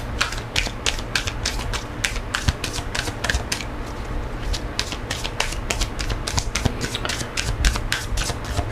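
Tarot advice cards being shuffled and drawn by hand, a quick irregular run of crisp papery flicks and snaps, close and continuous with no talking.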